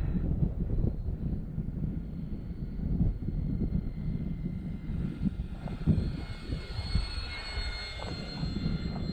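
An F8F Bearcat on landing approach in a crosswind, gear down and no flaps, holds a steady, droning engine roar throughout, with wind buffeting the microphone.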